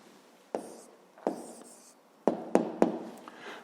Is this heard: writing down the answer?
yes